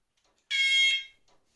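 A fishing bite alarm gives a single bright electronic beep of about half a second, close and clear against near silence.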